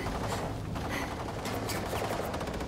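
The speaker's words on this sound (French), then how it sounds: "Tire! Tire! Tu tires bien, Max" Sustained gunfire from Wolfenstein II: The New Colossus, a dense continuous fusillade of rapid shots with mechanical clatter, loud and unbroken throughout with no talk.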